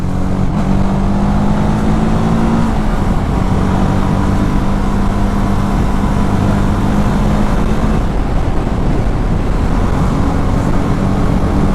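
A TVS Apache 310 motorcycle engine drones loud and close, holding a continuous, steady roar with slight pitch shifts as the bike runs at speed in a high gear.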